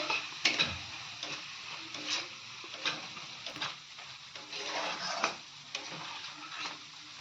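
Spice paste with ground coriander being stirred and fried for a home-style paneer dish, a low sizzle under repeated scraping and clicking strokes of a spoon in the pan, fairly quiet and close, no talking.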